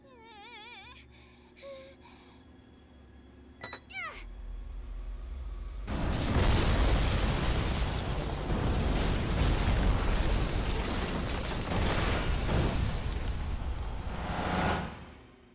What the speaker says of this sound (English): He stayed behind to detonate the bombs.